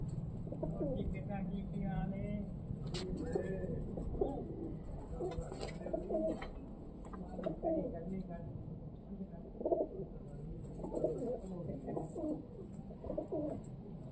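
Pigeons with dyed neck feathers coo softly in low, repeated throaty calls, close by, while a person talks over them and faint chirps sound in the background.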